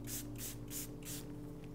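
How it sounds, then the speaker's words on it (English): A spray bottle mists water onto an acrylic painting palette in four quick close hisses, evenly spaced, over a quiet background. "I'm going to spray it with some water again"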